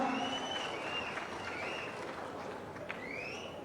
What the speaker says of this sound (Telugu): గట్టిగా మన చప్పట్ల మధ్య వారికి నమస్సుమాంజలు అర్పిస్తున్నాం.